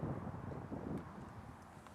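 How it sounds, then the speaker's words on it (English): Strong right-to-left wind sweeping across a disc golf course, buffeting the microphone with a steady, close, low rumbling roar that swells slightly early on; no one speaks. "I have a heavy right to left wind"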